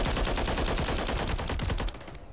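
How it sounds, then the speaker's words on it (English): Rapid automatic gunfire from a video game rattles in one dense, continuous burst, close and loud, then drops off sharply near the end. "That was a lot of bullets."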